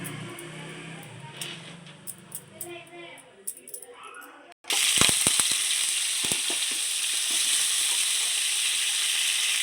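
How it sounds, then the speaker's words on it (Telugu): Chicken pieces drop into hot oil to fry. After a stretch of talk, a loud, steady sizzling hiss starts abruptly with a few sharp crackles and continues close-up to the end. "సో ఇప్పుడైతే ఈ చికెన్ మనకి బాగా ఫ్రై అవ్వాలి."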